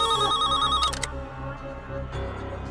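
A telephone ringtone sounds in a Telugu TV drama scene, a loud warbling electronic trill for about the first second before it cuts off and background music carries on.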